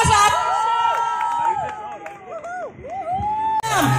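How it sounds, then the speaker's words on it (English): Wedding sangeet guests cheer loudly, with whoops and shouts rising and falling over a busy crowd for about four seconds. "Can we have a huge round of applause up?"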